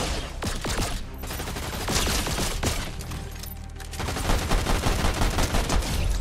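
Rapid pistol gunfire in the video game Fortnite, dense loud shots in quick succession with game sounds layered underneath, no talking.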